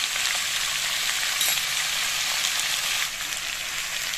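Potatoes fry in a pan with salt and turmeric, a steady, close, even sizzle and hiss that runs unbroken and eases slightly near the end, with no talking.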